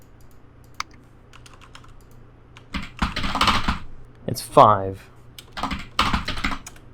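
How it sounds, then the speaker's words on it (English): Clicky keyboard typing in quick bursts in the video game Location Withheld Demake, with a short spoken remark between the flurries of keystrokes. "Interesting keyboard noises"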